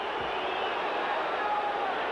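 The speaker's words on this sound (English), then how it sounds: "And the crowd reacts." Boxing crowd in a packed arena during round nine of a Whitaker versus Chavez fight, a steady, loud wash of roaring and cheering that holds evenly throughout without breaks.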